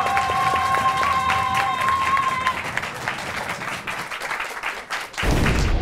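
An audience applauds for an applause meter on a French TV show, steady dense clapping that holds throughout, with a voice speaking over it and a tonal jingle early on.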